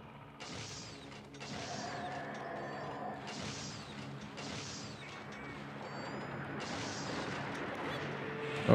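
Ballista shots firing in Monster Hunter XX, a series of mechanical launches and impacts repeating every second or so over continuous game ambience, fairly quiet overall.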